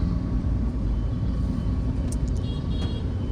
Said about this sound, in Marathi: ट्रॅफिक किती आहे बघा ट्रॅफिक